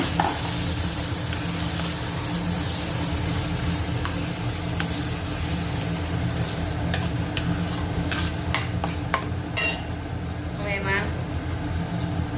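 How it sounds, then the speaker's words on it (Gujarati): Chopped onions sizzle steadily in a pan while a spoon stirs them, with scraping and clinking against the metal and a few sharp taps near the end, heard close; a voice talks over the frying. "ડુંગળીની ક્યુરી નાખી દઈશું નાખી દઈશું"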